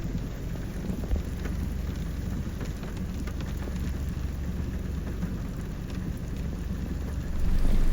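Heavy rain pours steadily outdoors beside a quad on a rough backcountry trail, a dense, even hiss with a few faint rumbles underneath that swells slightly louder near the end; no one speaks.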